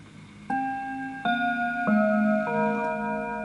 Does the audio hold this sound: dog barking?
no